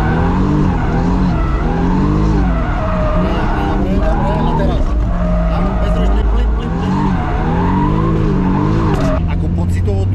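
Toyota Supra drifting, its engine revving up and down in sweeping waves while tires squeal and skid continuously, loud and close from inside the car, with people talking throughout.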